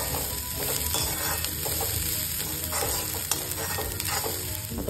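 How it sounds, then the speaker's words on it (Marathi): Cabbage and vegetables sautéing and being stirred in a pan, a continuous loud sizzle with scraping stir strokes throughout. "आणि हे सगळं छान आपण मस्त परतून घेऊया"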